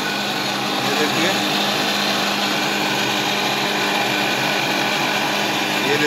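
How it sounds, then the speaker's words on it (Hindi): A mixer grinder grinds rice, running steadily with a high whirring motor and a gritty churning texture, continuous and fairly loud throughout. "अरवा चावल को पीसने शुरू कर दिए हैं दोस्तों, ये देखिए मिक्सी में पीस रहे हैं"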